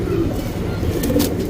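A female breeding pigeon in Bangalore gives a brief, soft, low coo, close by, over faint background hiss.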